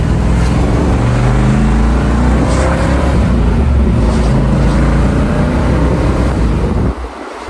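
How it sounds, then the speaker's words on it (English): A 1962 Chevrolet Impala engine pulls hard under power, a loud steady roar with low rumble and wind noise holding for several seconds before dropping off sharply near the end. "Let's give it a little bit of power and see how she does."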